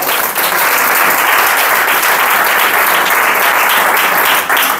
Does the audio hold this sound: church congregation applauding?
yes